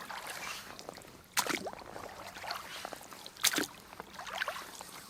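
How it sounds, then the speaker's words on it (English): Oars dip and pull through the water while rowing an inflatable TrueKit Navigator dinghy, two distinct splashing strokes with trickling and sloshing between them, close and moderately loud. "today we are only going to get a rowing demonstration"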